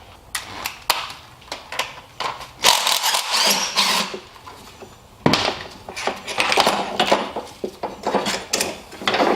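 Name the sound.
removing two 12mm throttle cable bolts with a ratchet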